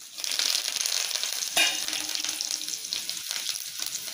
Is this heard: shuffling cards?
no